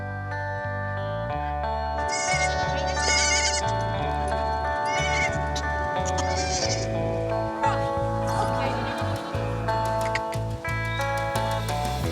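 Pygmy goats and their kids bleat in a barnyard, with several wavering calls rising above a continuous bed of background music throughout.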